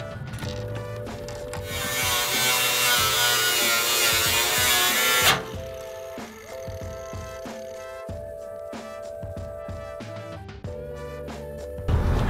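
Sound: cutting a Chevy Silverado bumper for a Mazzulla bumper

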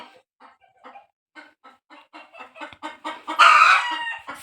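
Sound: chickens clucking and rooster crowing

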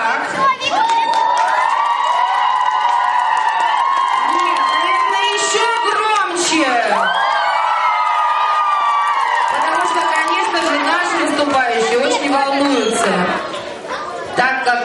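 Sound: audience applauding and cheering

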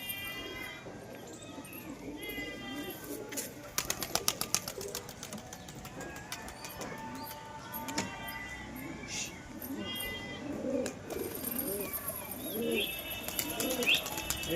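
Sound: pigeon cooing

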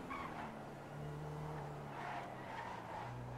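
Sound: car driving in a video game

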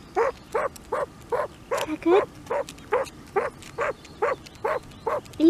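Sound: dog barking

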